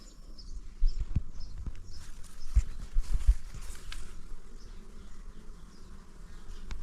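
Bees buzzing around the hives of an apiary, a constant close insect drone with scattered bumps and footsteps nearby.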